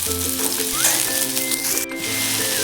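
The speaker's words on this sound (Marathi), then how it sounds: "इकडे आपला कांदा छान असा भाजून होत आहे" Onion browning in a kadhai for masala bhindi, a dense loud sizzle running steadily across a short stretch with a brief sharp click near the end and faint stirring, no speech.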